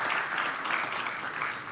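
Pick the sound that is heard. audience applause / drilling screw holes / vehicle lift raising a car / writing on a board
audience applause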